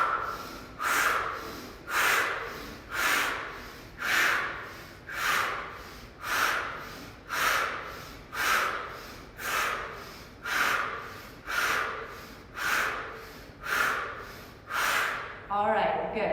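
Forceful rhythmic yoga breathing paired with arm movements during a warm-up flow: about fifteen strong, evenly spaced breath pulses, roughly one per second, loud and close, with no talking.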